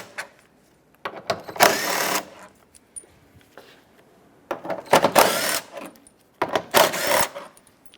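Ratchety mechanical bursts of a tool backing out the 13 mm bolts holding the A/C condenser on a 2003-2021 Chevrolet Express 3500 van, three separate runs of one to two seconds each, close and fairly loud, with quiet pauses between and no talk.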